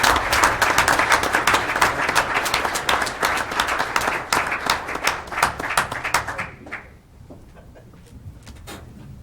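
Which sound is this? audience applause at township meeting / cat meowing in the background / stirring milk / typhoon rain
audience applause at township meeting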